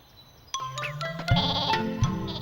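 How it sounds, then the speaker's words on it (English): Cartoon sheep in a VeggieTales Old Testament David and Goliath story let out loud, close bleats, one after another against light background music and effects. "Hey, Dave, one of my sheep fell too."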